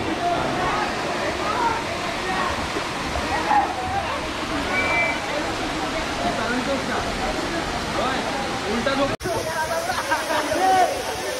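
A year-round waterfall near Jawhar, Nashik, rushes in a steady, loud, continuous roar, with water sloshing close by and voices talking over it throughout.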